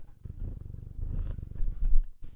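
A cat named Annie purrs right up close to the microphone while sitting on a lap, a steady low rumbling purr that keeps going with no talking over it.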